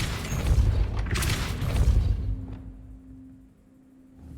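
A Depulso push spell cast in Hogwarts Legacy bursts out as a loud, low, rumbling blast lasting about two seconds, then decays into quiet with a faint lingering hum.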